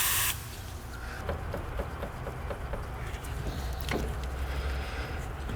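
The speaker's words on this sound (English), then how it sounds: "Maybe some of that penetrating oil." Penetrating oil sprays in short hissing bursts onto a suspension bolt of a 1998 Chrysler Town & Country van, a few quick spritzes with faint clicks between, recorded up close.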